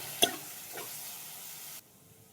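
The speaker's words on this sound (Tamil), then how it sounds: "அதை போட்டு நல்லா வதக்கி விட்டுக்கோங்க" Onions and mashed tomato sautéing in a pan, a sharp clatter as the tomato goes in, then a steady close sizzle with stirring that cuts off abruptly.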